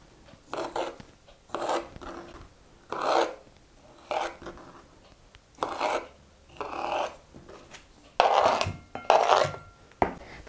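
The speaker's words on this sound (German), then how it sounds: "Ich habe 2 Dosen Pfirsiche abtropfen lassen und die schneide ich jetzt auch gleich klein." A knife cuts drained canned peaches on a board with a rhythmic series of soft, wet chopping strokes, roughly one per second, close and clear with no talk.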